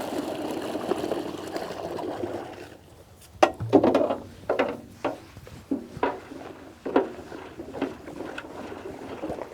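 Twenty litres of water poured into a container and stirred for soaking mushroom-growing straw, a steady wet rush at first, then a series of sloshing, splashing strokes from mixing, close by and moderately loud.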